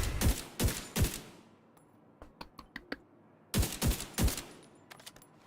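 Bursts of rapid automatic gunfire from The Division 2 video game, two clusters of three loud broadband volleys separated by a stretch of quieter sharp single clicks and pops.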